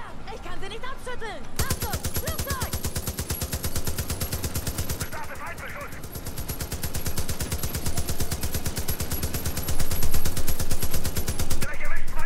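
Sustained rapid machine-gun fire in Far Cry 5, with the weapon overheating, running as dense automatic bursts almost throughout, loud and close, with a brief break midway and some talk underneath.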